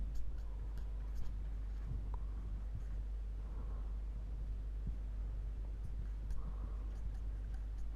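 Marker or chalk drawing a diagram of a control volume on a lecture board, heard as scattered faint ticks and short scratchy strokes over a steady low hum, with no talking.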